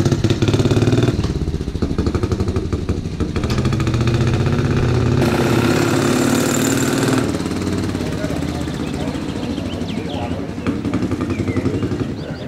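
An old 1954 BMW motorcycle engine runs with a continuous loud, throbbing chug at a vintage bike gathering, staying steady and close while a voice talks over it.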